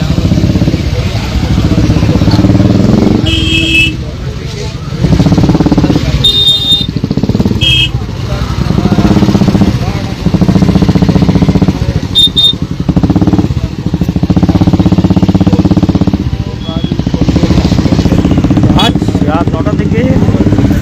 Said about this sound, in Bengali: কিভাবে দুটি লরির মাঝখান দিয়ে বাইকগুলি আস্তে আস্তে বেরোচ্ছে